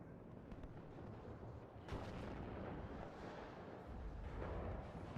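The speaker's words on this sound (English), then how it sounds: "But the artillery keeps on going." Distant artillery in the WARNO strategy game rumbles as dull, low booms that roll over each other in a continuous murky barrage, faint and far off rather than sharp.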